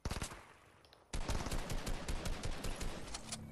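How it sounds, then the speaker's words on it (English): Video game gunfire, a few scattered shots at first, then from about a second in a dense, loud stretch of rapid automatic bursts that keeps going to the end. "Oh, you're getting shot."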